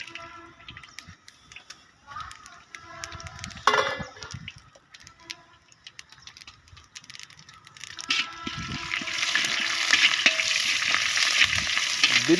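Chana dal, cumin, mustard seeds, garlic and grated ginger fry in hot oil for tempering, a soft crackle and stirring scrape that builds into a steady, brighter sizzle in the last seconds.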